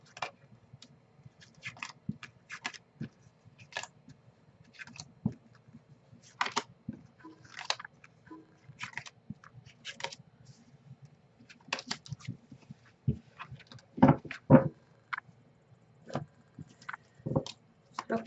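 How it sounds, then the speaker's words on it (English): Tarot cards are handled and shuffled at a table, producing soft, irregular taps, flicks and brief riffling bursts scattered across the span, quiet and close with faint room hum beneath. "we're going to do a lot more fanning out just to cut down on the shuffle time and, you know, the noise that it makes"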